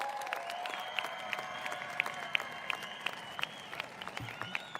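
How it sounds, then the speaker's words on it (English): A graduating high school class of 2021 at an outdoor ceremony on a field applauding themselves, faint, distant, steady clapping with scattered sharper claps and light crowd noise. "Give yourselves a big round of applause."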